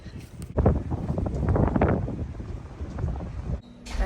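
Heavy wind buffeting a microphone, loud low-end thumps and roaring bursts that drop out abruptly, then resume near the end.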